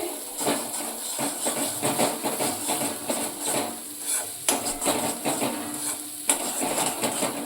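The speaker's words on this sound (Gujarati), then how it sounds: "આપણે લસણની કચાશ દૂર થાય ત્યાં સુધી આપણે આ રીતે હલાવટ કરવાનું છે" A spoon stirs garlic masala sautéing in a pan over a low flame for Bhavnagar-style garlic potatoes, with irregular close scrapes and clinks against the metal over a faint sizzle.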